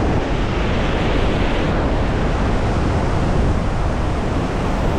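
Strong wind and rushing water at Iguazu Falls on the Brazil side make a dense, steady roar, loud and unbroken, with buffeting wind across the microphone.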